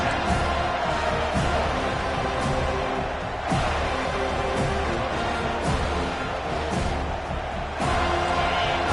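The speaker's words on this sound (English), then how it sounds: "They challenge this crowd to bring the energy, and I'd say they're doing that." A college football stadium crowd roars in a constant loud wash of cheering and noise, with surges and sharp bursts recurring through the stretch.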